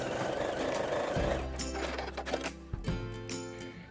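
A sewing machine stitches the corner of a small fabric tote bag, its low motor hum running steadily in bursts with short pauses and clicks between runs, close and fairly loud.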